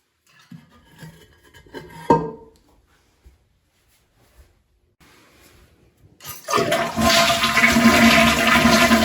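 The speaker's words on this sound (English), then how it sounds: "we're going to flush the toilet to empty it as much as possible" Toilet flushed to drain the tank with its top lid removed, preceded by faint clicks and handling of the lever, then a loud rushing gush of water that continues to the end.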